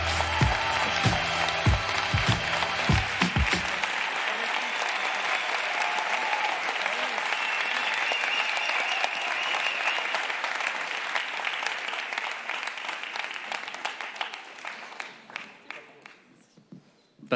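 Thesis contest audience gives the winner a long, loud ovation of dense clapping. Speech and footsteps come briefly at the start, and the applause fades out near the end.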